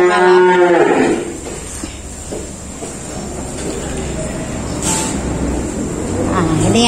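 Horned Limousin cattle at a livestock market give a loud, close drawn-out moo at the start, followed by a second low moo near the end, with someone talking over the market background noise.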